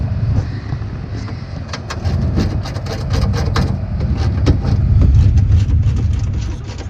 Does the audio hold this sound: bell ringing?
no